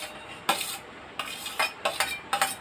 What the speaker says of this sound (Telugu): మంచిగా మిక్స్ చేసుకోండి